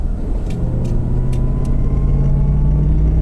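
A car overtakes on a race track while the driver holds to the white line in a Ford Mustang Bullitt. A loud, steady engine rumble with a low drone runs throughout, alongside a few short high clicks.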